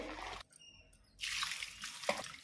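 Squeezed chopped cabbage sheds water in a brief trickle and drip, first faintly, then as a louder, steady splashing rush after a short pause, with no talking.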